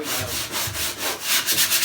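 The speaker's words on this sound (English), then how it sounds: "I'm sanding" Steady back-and-forth sanding by hand, a rhythmic rasping scrub on wood, close up and continuous.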